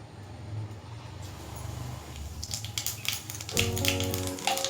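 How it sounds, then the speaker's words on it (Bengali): Nigella seeds fry in hot mustard oil in a kadai, starting with a soft background and breaking into rapid, crisp sizzling crackles that grow busier and louder over the last couple of seconds. "এবার ফোড়নটাকে 30 সেকেন্ড ভেজে নেব।"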